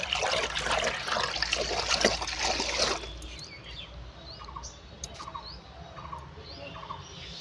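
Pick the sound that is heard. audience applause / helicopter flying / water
water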